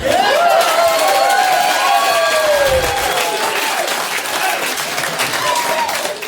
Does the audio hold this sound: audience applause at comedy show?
yes